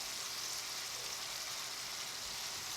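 Ground beef frying in a pan for a Central Pennsylvania barbecue sloppy joe, giving a steady, dense sizzle with crackling that stays even and constant throughout, with no voices.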